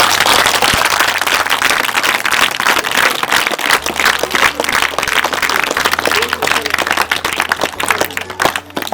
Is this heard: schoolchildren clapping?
yes